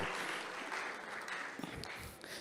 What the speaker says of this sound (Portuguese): Salve de palmas aqui, pessoal